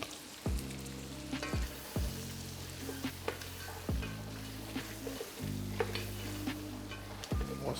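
Shrimp sizzle and fry in a pan, with repeated stirring scrapes as seasonings are worked in, a steady close hiss broken by regular utensil strokes.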